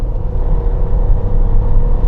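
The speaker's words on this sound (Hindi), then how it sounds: "अब मैं पेडल पूरा दबाता हूँ।" A 2026 Skoda Kushaq with an 8-speed automatic accelerating at full throttle from about 60 km/h, a loud, steady low engine rumble heard from inside the cabin with no talking.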